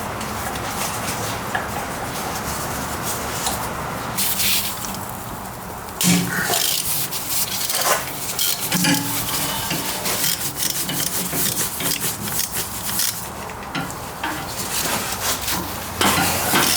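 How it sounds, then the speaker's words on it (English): Metal scraping and rasping as exhaust manifold studs are worked out of a Toyota 2UZ-FE V8 engine in a first-gen Sequoia/Tundra, steady grinding friction with a few sharper knocks and clanks, close and fairly loud, no talking. "still trying to remove these studs"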